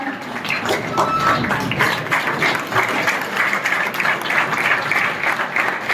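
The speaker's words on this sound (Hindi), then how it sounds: "अगर जोरदार ताली बजाएंगे मजा आएगा।" Loud audience applause in a hall welcoming a newly appointed naib tehsildar, sustained dense clapping that rises and falls for several seconds.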